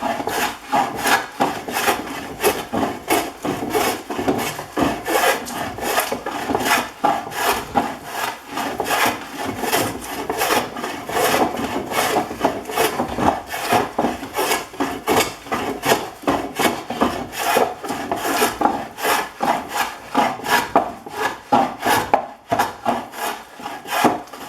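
A large Stanley No. 74 smoothing plane peels shavings off wood in a long run of quick, rhythmic rasping strokes, close and fairly loud, with no talking.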